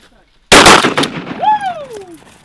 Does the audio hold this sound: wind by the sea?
no